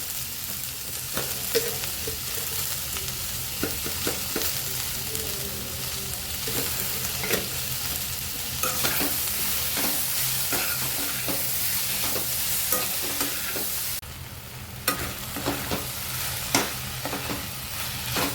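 Tomatoes and onion sautéing in a pan for spicy prawn masala, a steady sizzle throughout with frequent close scrapes and stirring clicks, no voices.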